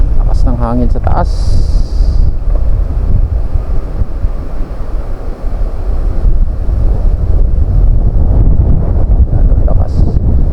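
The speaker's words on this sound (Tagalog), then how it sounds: "Lakas ng hangin sa taas." Strong wind buffets the microphone high above a riverside, a loud steady rumble filling the whole stretch, with a voice heard briefly near the start.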